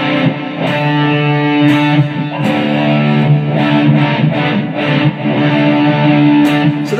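Distorted electric guitar plays a riff, a loud, continuous chugging figure with repeating climbing notes, heard alone.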